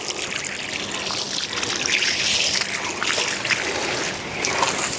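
Water trickles and splashes steadily while garden plants are watered, a continuous close hiss of flowing water with small spattering bursts and no talking.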